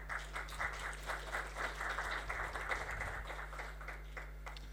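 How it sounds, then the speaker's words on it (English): A faint round of applause rises from the audience in an Agile conference hall, heard through a low electrical hum. "Give him a round of applause."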